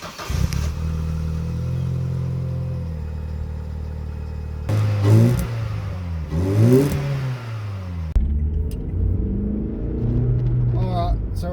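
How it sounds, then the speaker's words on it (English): The engine of a Barina/Corsa SRI track car fitted with a pod filter intake is heard from inside on a test drive. A steady drone rises into throaty revving surges and then drops, with talking. "So we'll see if we can get some of those throaty pod filter noises."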